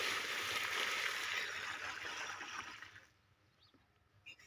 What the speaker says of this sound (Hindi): फंगीसाइड डालने के बाद पौधे को पानी से भर देना है